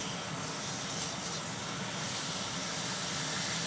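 Steak searing in a pan on a cooktop turned to its highest heat: a loud, steady, hissing sizzle that runs unbroken from start to end, with no talking.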